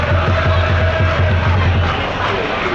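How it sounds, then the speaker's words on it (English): Torquay United supporters at Plainmoor roar and clap in a loud, continuous crowd swell near the end of a football match, a broad sustained wall of noise from the stands. "And the applause from the Yellow Army,"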